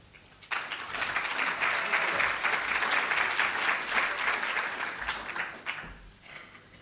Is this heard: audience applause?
yes